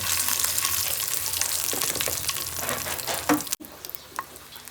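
Urad dal, curry leaves and asafoetida fry in hot oil for a tempering, with a busy, bright sizzle and crackle that fades before a sudden cutoff and a quieter frying tail.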